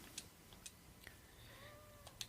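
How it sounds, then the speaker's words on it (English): A cat meows once in the background, a faint drawn-out tonal cry around the middle, amid scattered light ticks and clicks in a quiet room. "So you might hear him going meow, meow, meow in the background"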